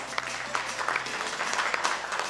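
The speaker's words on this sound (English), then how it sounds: "Biggest round of applause" An audience at a policy conference on national security and diplomacy gives a round of applause, a thick, continuous wash of many hands clapping at steady volume throughout.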